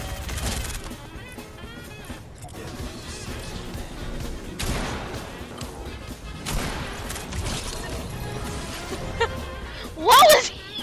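Gunfire from the video game Fortnite, scattered bursts and impacts in a busy battle mix heard under ongoing talk, with a louder sharp blast near the end.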